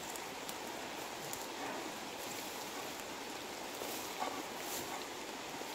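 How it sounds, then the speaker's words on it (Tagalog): Steady outdoor rain, growing heavier, makes a dense, even hiss of drops that holds at one level throughout, with no voices over it. "Oh, papalakas po yung ulan mga kamigs."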